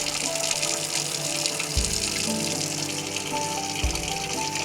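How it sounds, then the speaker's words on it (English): Water runs steadily from a faucet in a 2020 Winnebago Solis RV while the Truma heater is flushed, making a continuous moderate splashing rush with two faint low thumps. "till we get a nice steady stream coming out"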